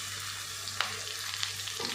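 Finely chopped okra sizzles in hot oil in a pan with sautéed onions, a steady soft crackle with a couple of faint stirring clicks.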